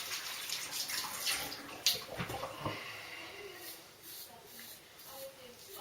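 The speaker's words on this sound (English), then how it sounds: "Just rinse that off" Running water rinses a Merkur Futur safety razor fitted with a Feather blade, a steady close splashing hiss with a few sharper spatters, while someone talks faintly over it.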